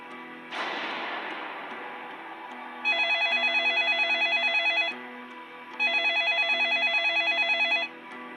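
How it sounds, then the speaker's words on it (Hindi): An old-style telephone rings in two long trilling bursts with a pause between, loud and close, after a soft thump and low hum. "फोन इस वक्त कौन होगा?"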